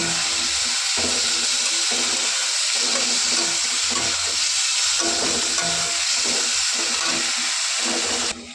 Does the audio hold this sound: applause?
no